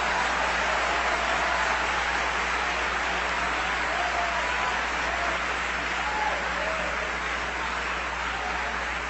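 A church congregation claps in sustained, dense applause that stays loud and even throughout.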